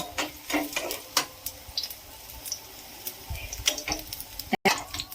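Bread paratha frying in hot oil, dipped in batter and browned on both sides, giving a soft, close sizzle with scattered crackles and pops.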